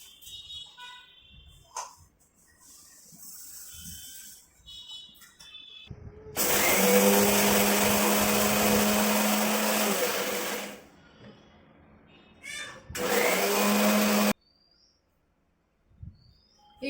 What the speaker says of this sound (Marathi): आता मिक्सरला माझी पेस्ट पूर्ण झाली